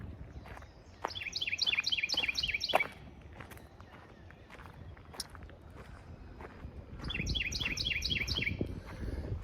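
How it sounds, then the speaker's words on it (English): Birdsong in Mossy Creek Park, Jefferson City, Tennessee, in mid-spring, with bright, repeated chirping phrases in two bursts, with quieter calls and scattered rustling and footsteps between them. "Birds are singing."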